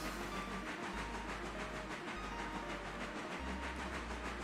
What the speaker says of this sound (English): it's nice to see the locomotives kind of just like barrel down the line in like black